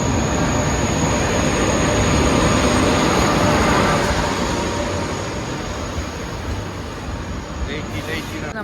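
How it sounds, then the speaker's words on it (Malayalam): A train stands at a railway station, making a steady, loud broadband rumble and hiss that fades slightly toward the end. "നമുക്ക് പോവാനുള്ള ട്രെയിൻ എത്തിയിട്ടുണ്ട്."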